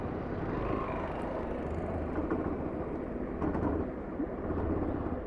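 Low, uneven engine rumble comes from a motorbike lugging in 4th gear at low speed after a speed breaker. The motor jerks and stutters steadily for a few seconds, close up, with no talking.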